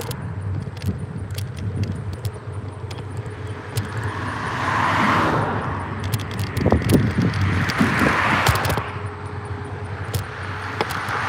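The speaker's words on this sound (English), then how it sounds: "That was a neat ride that just passed us" A vehicle passes on a road in Northeast Kettering, heard from a scooter; its engine noise swells and fades over several seconds amid steady road rumble and repeated small jangling clicks.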